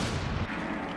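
Explosions on the Coastline map in Rainbow Six Siege during a Six Invitational match produce a dense, loud, continuous rumbling boom lasting the full second.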